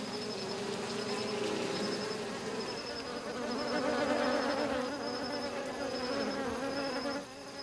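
A dense, continuous buzzing of many bees swarms steadily throughout, rising and falling slightly in intensity with no voices.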